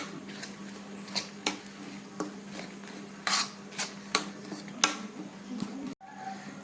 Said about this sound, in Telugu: వేసేసుకొని ఇది మంచిగా కలుపుకోవాలి మనం.